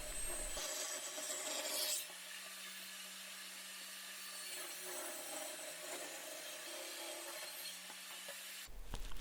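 A table saw resaws a board of wood with a steady motor hum and a rough grinding cut through the blade, running evenly for several seconds, quiet overall.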